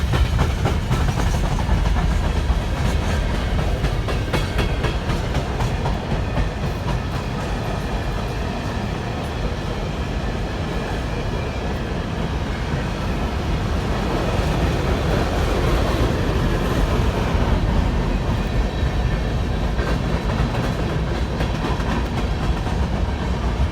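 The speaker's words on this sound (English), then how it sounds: "Bye-bye, train." A train rumbles past steadily and close for a long stretch, a continuous roar with faint rhythmic clatter of wheels on track.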